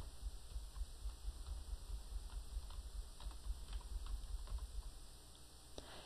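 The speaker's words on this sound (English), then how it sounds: "I'm going to start typing some different letters." Letters typed on a computer keyboard, a quick irregular run of soft clicks over a faint background hum, close and quiet.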